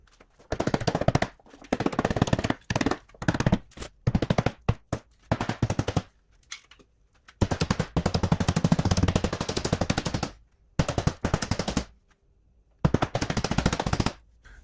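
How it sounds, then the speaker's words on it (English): Rapid, relentless metallic hammer blows ring out in long bursts as welded metal edges are hammered over on an Alfa Romeo 145 Cloverleaf, separated by brief pauses, loud and close, with no talking. "So if I hammer all these edges over"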